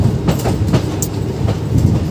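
A train rolls through Gohana railway station in Haryana, close and loud, with rhythmic clickety-clack of wheels over rail joints and a brief high squeal.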